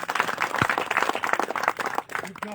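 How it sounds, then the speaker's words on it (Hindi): Spectators at a cricket ground during a local cup final applaud, a loose, uneven patter of clapping at moderate distance with a faint voice murmuring under it, thinning toward the end. "और उनके लिए चाहता हूँ कि एक बार फिर तालियां हो जाए।"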